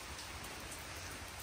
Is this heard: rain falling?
yes